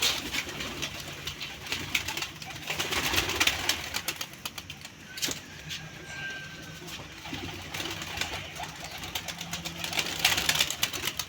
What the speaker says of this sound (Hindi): ये देखिए दोस्तों, कबूतर निकालने लगे हैं बाहर।